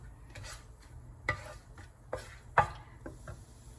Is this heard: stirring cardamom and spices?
yes